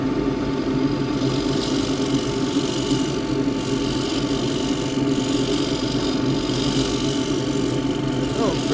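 A dust extractor runs in a woodturning workshop, giving a steady, loud droning hum with a low mechanical rumble that holds constant throughout without pauses.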